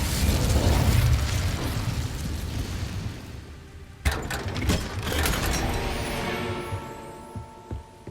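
An Incendio fire spell goes off in Hogwarts Legacy: a loud whooshing fiery burst that fades, then a second sharp blast with crackling and rumbling that slowly dies away.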